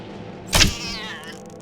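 Cat in the Petty Thief video game lets out a single short, loud meow with a quick rising then falling tone, heard alone over a low background hum.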